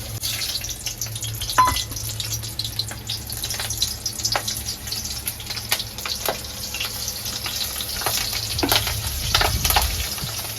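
Soybean chunks and potatoes cooking into a curry in a pan, a steady close sizzle and frying hiss with occasional light stirring clicks, continuous throughout.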